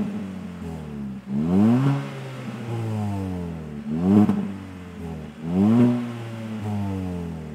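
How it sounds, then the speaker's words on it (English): Kia ProCeed GT with a 204-horsepower engine, revving hard while accelerating; three rising engine sweeps climb and fall in turn, loud and close with no talk over them. "the sound is actually very loud for the car with only 204 horsepower"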